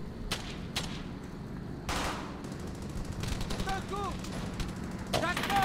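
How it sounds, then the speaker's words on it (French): Heavy machine gun fire in the WWII shooter Brothers In Arms: Hell's Highway, with bursts and sharp reports over dense battlefield noise and a voice talking through parts of it. "J'ai entendu le bruit d'une grosse mitrailleuse"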